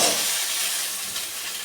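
Vegetables hit a hot pan with turmeric, giving a brief, soft, steady sizzling hiss.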